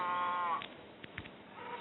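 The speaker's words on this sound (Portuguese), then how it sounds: "Eu bati numa vaca e ela saiu correndo?" Cow mooing in a video game, a few short low calls in quick succession following a brief tonal game sound, close and clear with no talking.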